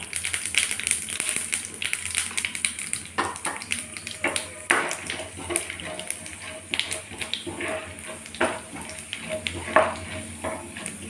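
Cumin, chana dal and urad dal fry in hot oil for a drumstick dish, a steady loud sizzle broken by repeated scraping and clattering as the pan is stirred.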